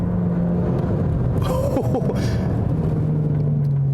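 Fiat car driven on the road, a steady engine drone with low rumble and a brief rise of revving and road noise midway, heard from inside the cabin.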